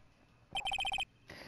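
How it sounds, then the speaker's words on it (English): Phone ringtone from the Phoenix Wright: Ace Attorney game, a short run of about seven quick, bright electronic beeps in even rhythm, loud and close, followed by a brief burst of other game sound. "What's with this stupid sounding ringtone?"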